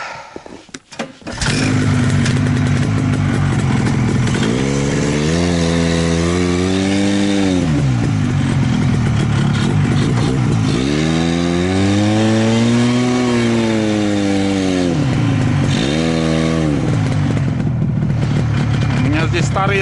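A tracked vehicle's engine revs up and down repeatedly while its track spins and slips without grip, a loud rising and falling motor whine in several surges, with voices at times.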